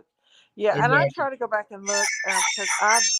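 A phone alarm tone imitating a rooster crowing, a loud, harmonic cock-a-doodle-doo call up close, with a person speaking briefly at the start.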